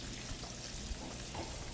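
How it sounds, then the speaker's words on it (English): A steady bubbling and gurgling of liquid boiling in a pot, a soft continuous churn with faint pops, close by. "It's boiling good."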